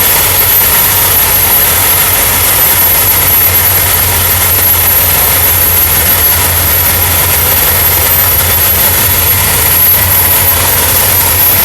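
A World War II era steam locomotive runs in Thailand at a royal ceremony, making a loud, unbroken, roaring hiss that stays steady throughout.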